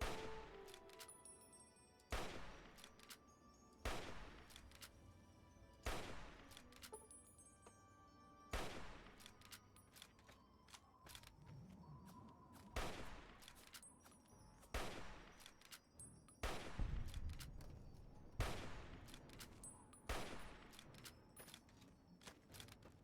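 Rifle shots ring out at a raider in Fallout: Tale of Two Wastelands, a dozen or so sharp loud cracks spaced every couple of seconds in a steady rhythm, with mechanical clicks between and no talking.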